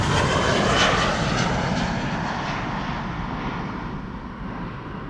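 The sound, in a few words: KLM Boeing 737-700 jet departing Schiphol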